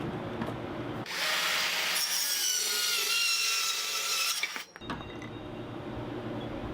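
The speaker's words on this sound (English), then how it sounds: "So that's the cutoff tool for the Black+Decker Matrix Quick Connect system." A Black+Decker Matrix Quick Connect cutoff tool saws through nail-embedded wood in one steady, loud burst lasting several seconds, a bright grinding rasp that stops abruptly, with quieter handling noise before and after.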